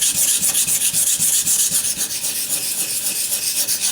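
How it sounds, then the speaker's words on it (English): A chipped knife blade is drawn across a sharpening stone in quick, even strokes, a bright rhythmic rasping that repeats about three times a second, close and alone. "Hardcore sharpening must be needed."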